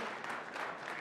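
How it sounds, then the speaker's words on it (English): An audience at a HederaCon 2025 conference session gives a round of applause. The clapping is steady and fairly distant, and it lasts about a second. "one massive round of applause for Michael"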